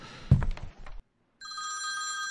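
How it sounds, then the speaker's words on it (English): A telephone rings in the horror video game The Apartment Next Door, its steady electronic bell tone sounding alone after a brief thump and short silence. "Should we answer the phone?"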